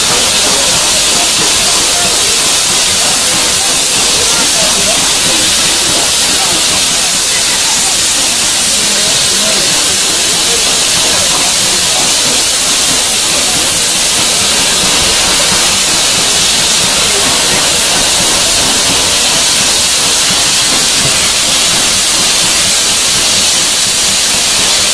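Steam locomotive 6201 Princess Elizabeth, hauling the Northern Belle, gives off a loud, constant roaring hiss of steam that continues without a break, with voices faintly underneath.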